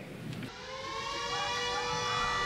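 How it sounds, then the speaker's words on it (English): An air raid siren wails at an outdoor staged re-enactment of the 1942 Bombing of Darwin, rising in after a brief lull and holding a steady droning tone, moderately distant. "complete with air raid sirens, gun and cannon fire, and aeroplanes flying overhead"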